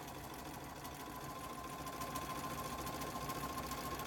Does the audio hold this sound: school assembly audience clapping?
no